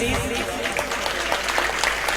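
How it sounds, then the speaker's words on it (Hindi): Applause from the audience at an evening poetry gathering, a short spell of dense clapping with a murmur of voices underneath. "आपकी तालियों की जरूरत है इस महफिल को प्लीज"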